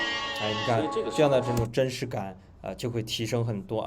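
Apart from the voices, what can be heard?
sheep flock bleating, added sound effect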